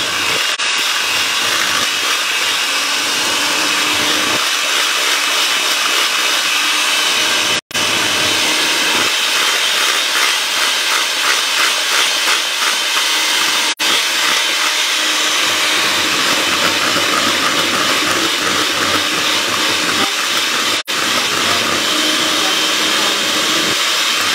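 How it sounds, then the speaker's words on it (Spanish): A handheld electric mixer creams butter, egg yolks and sugar for a lemon sponge cake, a steady close whirring drone running continuously with brief dropouts, no voices over it. "vamos a empezar a batir con batidora manual"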